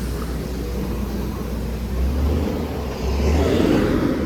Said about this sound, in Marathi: आता गाड्या काढतायत लोक.